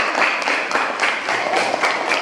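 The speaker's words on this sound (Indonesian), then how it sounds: "Kita sekali lagi memberikan tepuk tangan untuk mereka." Classroom applause from students for a group that has just presented, a brief burst of fairly close, steady clapping that holds throughout with slight swells.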